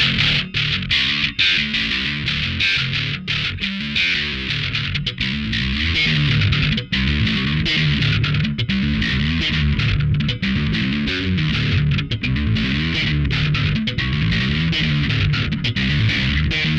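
A dense, gritty bass guitar through a Tech 21 SansAmp NYC analog distortion preamp with gentle overdrive, played continuously with percussive, slapped attacks and a steady loud level throughout.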